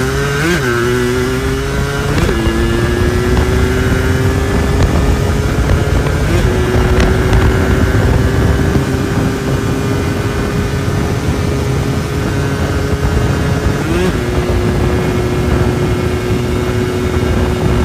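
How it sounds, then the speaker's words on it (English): A 1996 Yamaha Blaster quad making a drag strip run, its two-stroke engine revving hard through several gear changes with rising whines, loud and close under heavy wind buffeting. "96 Yamaha Blaster drag strip test."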